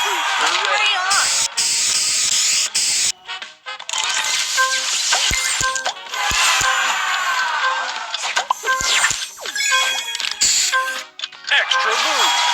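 A booster spray effect in a video game hisses in bursts amid bright, busy game music and chimes, with sharp ticks and cracks scattered through and short gaps of silence.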